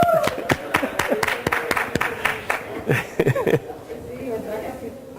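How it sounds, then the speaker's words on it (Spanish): A short round of hand clapping from a small group at a church Bible study, sharp claps in a quick irregular rhythm under speech, fading out after a few seconds. "Marta, un aplauso para Marta."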